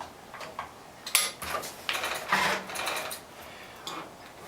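A reassembled Fender Blender whirs and clatters in several short mechanical bursts, close and fairly loud, with brief quiet gaps between runs.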